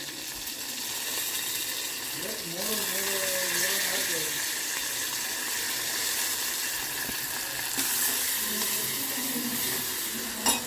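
Mint, coriander and ginger-garlic paste fry in a hot pan, giving a steady close sizzle that swells a little as the ingredients go in, with faint spoon scraping and a voice talking over parts of it.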